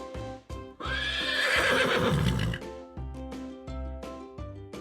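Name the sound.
horse neighing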